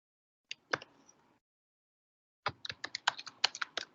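Computer keyboard typing close by: a couple of isolated key taps, a pause, then a quick run of crisp clicking keystrokes in a quiet room.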